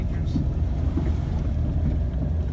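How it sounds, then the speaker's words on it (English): Strong wind buffeting a 2006 Chaparral 246 boat out on the water, a constant low roaring rumble of wind noise across the microphone with a faint voice underneath. "we got some crazy winds that we're fighting right now"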